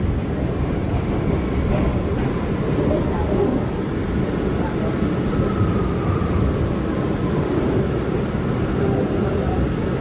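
An R179 subway car on the New York C local train rumbles steadily along the track, a loud, continuous low roar filling the whole stretch.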